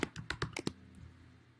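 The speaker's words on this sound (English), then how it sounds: "you could type in frame letters" A computer keyboard clicks six times in a quick, close sequence of crisp keystrokes, then falls silent into a quiet room background.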